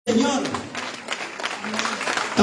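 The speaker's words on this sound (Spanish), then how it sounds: "Den un aplauso grande al Señor" Spanish-speaking church congregation applauding after a reading of Isaiah 6:1-8, a dense, steady wash of clapping that starts abruptly and continues at even loudness, with Spanish voices mixed in.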